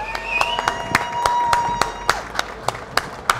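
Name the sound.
arena audience applause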